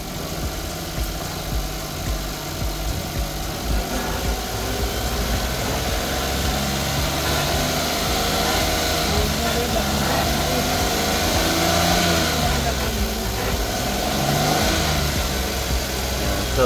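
A Suzuki DA17V 4x2 Tiptronic engine idles steadily with a close, mid-pitched hum, then climbs through a few gentle revs before settling, with light vibration throughout and no talking.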